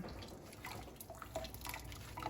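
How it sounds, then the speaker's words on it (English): Whey dripping from paneer cheese hung in cloth from a cupboard handle, faint scattered drips and small watery patters over a quiet kitchen background. "we hang that up there on that cupboard hanger handle, and we just let it drip"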